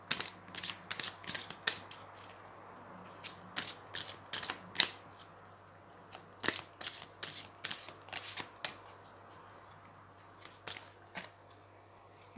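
Playing cards handled and drawn from a deck during a reading: a quick, close series of crisp flicks and riffling snaps in irregular bursts, with a quiet hum underneath.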